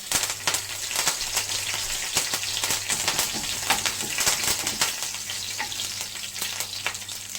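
Cloves and curry leaves fry in hot oil in a pan for a chickpea curry, giving a steady close crackling sizzle with scattered sharp pops throughout and no talking.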